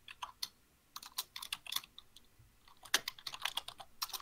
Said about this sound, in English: there's a little bit of typing in your side